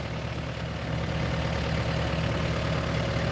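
Demolition equipment idles at a steady, loud low rumble with a constant drone, no talk, at a bank building demolition site in Rocky Ford, Colorado.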